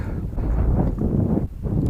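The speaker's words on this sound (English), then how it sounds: "But it's really gusting up nicely now." Gusting wind blows outdoors on an open, scrubby hillside, a steady, heavy, low rumble buffeting the microphone, loud and close with one brief dip.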